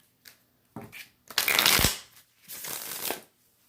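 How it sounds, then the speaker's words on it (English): Tarot cards being shuffled close up, a few short riffles followed by two longer, louder bursts of fluttering card noise, with no talking. "One more shuffle."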